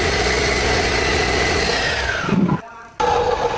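A Komatsu PC200-8 excavator's SAA6D107 diesel engine running on a test stand, a steady loud mid-range drone that briefly drops out near the end before resuming.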